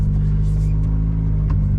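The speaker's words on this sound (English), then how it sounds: "Find it quite curious that the Nova's just starting and running." A Vauxhall Nova's 1.2 L petrol engine runs steadily at close range, a loud, constant rumbling idle with a slight rise in revs, with no one talking over it.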